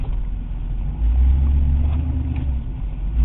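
A Pontiac Trans Am's engine rumbles low and close as the car pulls off for a spin around the block, the deep exhaust note swelling as it accelerates and then holding steady.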